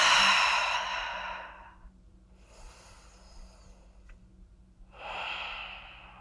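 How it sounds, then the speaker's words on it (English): Deep, full breaths during a body stretch, a long airy exhale, a softer breath, then another strong exhale, close to the mic with no talking. "I'm also taking some nice big full breaths into my rib cage"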